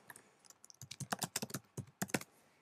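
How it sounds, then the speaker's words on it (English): Someone types a password on a computer keyboard, producing a quick run of distinct key clicks in short bursts with brief pauses, close and fairly quiet, with no voice. "And now I'll type my password."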